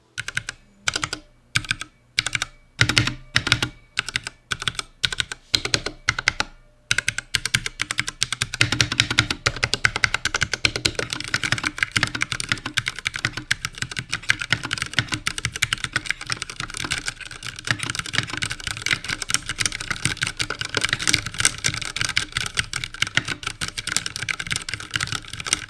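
Ducky One 2 Mecha Mini mechanical keyboard with Cherry MX Red switches and a metal plate, typed on steadily: a few separate keystrokes at first, then dense, continuous clacking close up with no voices.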